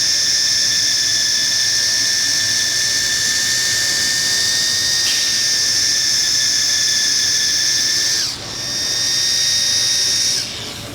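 Machine polisher buffing defects out of automotive clear coat: a loud, continuous high whine with steady tones, briefly dipping in pitch near the end as pressure shifts. No speech.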